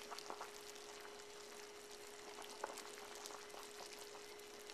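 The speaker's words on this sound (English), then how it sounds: "this is kind of good, clear, kind of boiling water" A steady, quiet bubbling of clear water boiling in a pot, with faint pops and a constant low hum, no voices.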